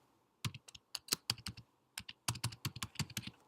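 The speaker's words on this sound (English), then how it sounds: "So let me just type it in." Rapid typing on a computer keyboard, close and clear, in two bursts of quick uneven keystrokes with a short pause between them and no voice.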